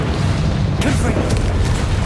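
A Confringo fire spell explodes in Hogwarts Legacy, heard as a loud, sustained booming blast with bursts of crackle on top, running through the whole moment amid other spell-combat noise.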